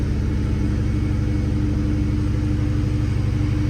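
A car engine fitted with a Cobra throttle body idles at about 1500 rpm on a cold start, a steady, close, low rumbling pulse with no other sounds.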